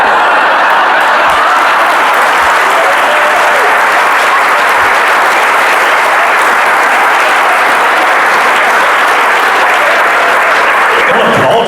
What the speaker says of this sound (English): So that's 6 seconds of applause on the broadcast